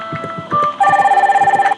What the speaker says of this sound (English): gotta hurry to answer the phone